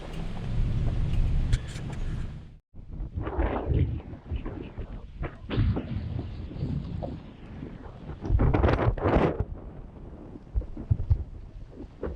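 A car drives down a rough wilderness road in the Beartooth area, with loud, close rumbling and wind buffeting that rises and falls, and a brief dropout partway through.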